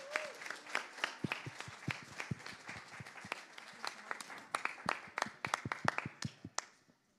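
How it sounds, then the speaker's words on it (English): A church congregation claps to welcome newly baptized members, many sharp, distinct hand claps building into a dense round of applause before tapering off into silence. "Y ahora un gran aplauso para ellos."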